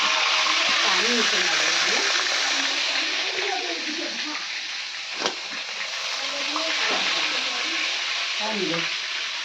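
Fish frying in a pan at a home kitchen, a steady close sizzle and hiss that continues throughout, with a single sharp tap near the middle and soft voices beneath.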